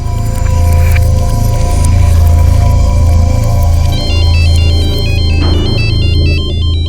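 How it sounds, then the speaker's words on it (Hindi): A mobile phone rings with a loud, close electronic melody over a pulsing low beat, the tune stepping through bright repeated notes with no voices over it. "अरे तो मेरे मोबाइल से फोन आ रहा है।"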